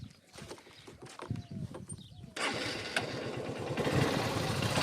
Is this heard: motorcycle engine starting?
yes